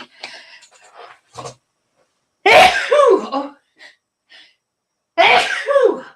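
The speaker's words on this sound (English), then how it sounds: "I'm going to sneeze." Two loud, forceful sneezes a few seconds apart, each with a sharp intake and explosive burst, close to the listener, with small rustles in between.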